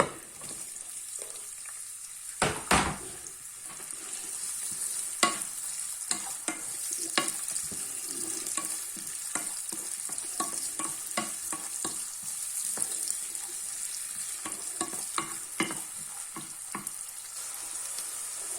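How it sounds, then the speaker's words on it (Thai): Onions being stir-fried in a pan for a large tray pizza topping: a steady close sizzle runs throughout, broken by frequent scraping and tapping strokes of a spatula, with no talking. "ใส่หอมหัวใหญ่ลงไปผัด"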